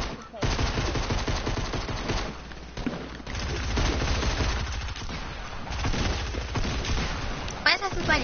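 Sustained video game gunfire, dense rapid automatic bursts rattling almost continuously and fairly loud, with brief pauses between volleys and no voices on top.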